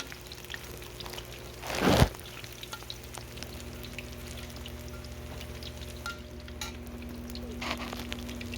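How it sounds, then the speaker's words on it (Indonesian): Peyek, a crispy fried cracker, frying in a pan of oil: a soft, steady sizzle throughout, with one louder crackling surge early on before it settles back to a faint hiss. "Dan ini sedang saya goreng."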